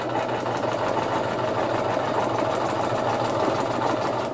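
A sewing machine runs steadily, stitching the hem of a homemade pack cover, its motor hum and rapid needle chatter continuous and close throughout with no pauses.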